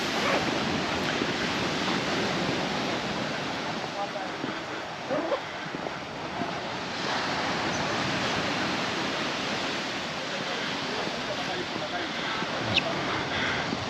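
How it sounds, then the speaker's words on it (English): Broad, steady roar of surf washing in on Magaluf beach, Mallorca, loud and continuous with gentle swells, and a voice faintly talking underneath. "there are some nice waves crashing on the beach"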